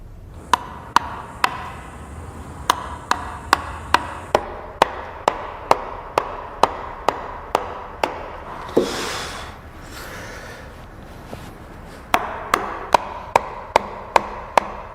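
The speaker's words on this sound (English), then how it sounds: "Using the chisel is where you get to design and you get to shape, and each cut will make a difference." Chisel cutting into wood while carving a pou, a steady run of sharp evenly spaced knocks, close and loud, with a brief pause and a scraping rustle midway before the tapping resumes.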